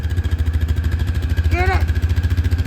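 A Honda engine runs rough and uneven with a loud, pulsing low throb close by in snowy weather, and a brief whistling squeal rises over it midway.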